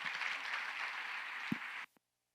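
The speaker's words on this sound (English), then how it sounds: "Give them a round of applause." An audience applauds a panel at an early math leadership institute: a steady wash of clapping that holds evenly, then cuts off abruptly near the end.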